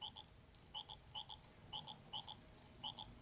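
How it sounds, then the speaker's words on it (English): Recorded cricket chirps play from a multi-function digital clock's nature-sound mode, a steady pulsing series of bright, evenly spaced trills, faint and alone with no talking. "It starts with crickets,"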